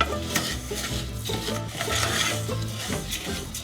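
Oil being stirred in a pan at the start of cooking Mexican rice, a steady scraping and swishing with light sizzle, continuous and close, over a layered tonal background.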